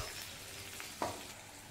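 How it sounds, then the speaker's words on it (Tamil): Garlic and green chillies sauté in butter with a faint, steady sizzle, a soft stir or tap briefly standing out near the middle of the short stretch. "பூண்டை அந்த பட்டர்லேயே வதக்கி விட்டுக்கோங்க"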